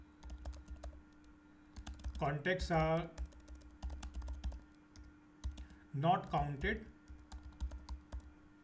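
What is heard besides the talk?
typing on a computer keyboard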